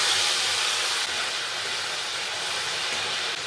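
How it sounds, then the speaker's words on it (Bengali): Spice paste mixed with water hits hot oil in a pan, giving a loud, unbroken hissing sizzle that lasts the whole few seconds. "এই যে মশলাটা রেখেছিলাম সেটা আমি জলের মধ্যে গুলে তেলে দিয়ে দিলাম"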